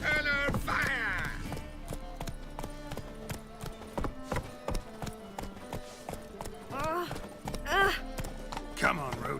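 Hooves of Roach, a horse in The Witcher 3, clip-clopping in a steady walking rhythm, close and clear, with speech and a short neigh-like vocal moment over the hoofbeats.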